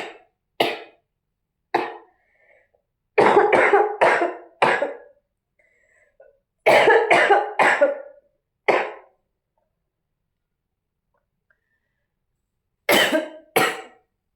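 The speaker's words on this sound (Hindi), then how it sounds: "लेकिन हाँ खांसी बहुत ज़्यादा हो गई है" A woman with a bad cough coughs in several separate bursts, each a cluster of two to four harsh, loud, close coughs with quiet pauses between them.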